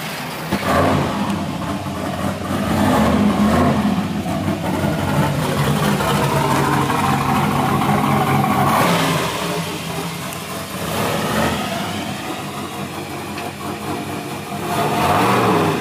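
Turbocharged 5.3 engine in a 1969 Camaro with a 6-speed transmission, started and revved repeatedly, loud and close, with rising and falling surges of engine roar and no talking.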